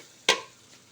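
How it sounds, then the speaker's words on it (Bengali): A single brief scrape of a spoon stirring chalta (elephant apple) pickle in a hot pan, with a soft sizzle trailing off, close and alone. "আর অনবরতই নাড়তে হবে, নাহলে নিচে লেগে যাবে।"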